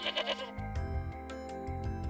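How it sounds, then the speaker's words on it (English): A young sheep gives a wavering bleat at the start, followed by a low, steady musical backing. "On a distant hill, there's a young sheep, peacefully grazing on the tender grass."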